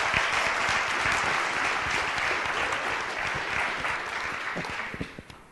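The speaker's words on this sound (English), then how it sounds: "Let's give Shannon another round of applause." A seminar audience gives a full round of applause for a volunteer, a dense, steady wash of many clapping hands that holds for several seconds and then begins to thin out at the end.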